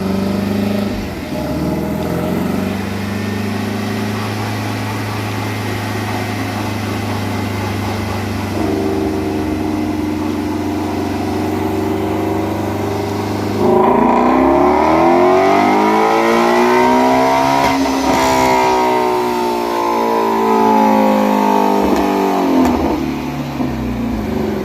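A Ford Mustang-type 5.2 Voodoo V8 runs hard on a chassis dyno, droning steadily, then revving up through rising and falling pulls; loud and close, with no talk.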